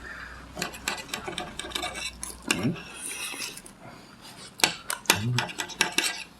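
A knife saws through a homemade rolled pork cutlet on a plate, with repeated close rasping strokes and sharp metallic clinks of cutlery scattered across the stretch.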